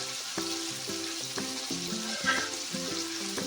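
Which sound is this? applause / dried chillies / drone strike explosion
dried chillies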